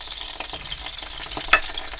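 Olive oil sizzles and crackles steadily in a hot pan up close, with a single sharp pop partway through.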